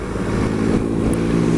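A Triumph Explorer motorcycle on the move gives a loud, steady engine drone under rushing wind, with no speech.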